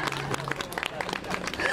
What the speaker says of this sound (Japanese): 拍手もめちゃくちゃ嬉しい。